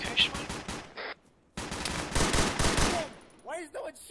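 Rapid automatic gunfire in a military shooter video game, bursts of fully automatic fire rattling loud and close, broken by a short pause before a longer sustained volley and scattered electronic effects at the end.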